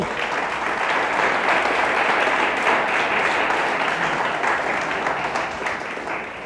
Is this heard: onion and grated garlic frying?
no